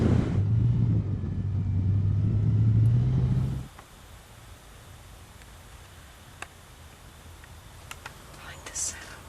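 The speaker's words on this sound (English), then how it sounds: "Stuart, my taxi driver, is doing the honors of driving us to the blind." A vehicle carrying hunters to a hog-hunting blind in Texas rumbles loudly for several seconds and then cuts off, leaving quiet surroundings with faint ticks and small clicks.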